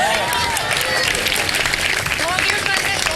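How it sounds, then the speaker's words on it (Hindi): Studio audience applauding on a live Ramadan iftar television show, a dense steady wash of clapping held throughout, with voices and a sung melody audible over it. "तालियां।"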